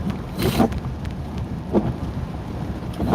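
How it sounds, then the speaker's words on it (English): Heavy rain pours steadily in downtown Shreveport, a dense constant wash with a few louder gusts or splashes rising above it, with no talk. "it is raining like crazy"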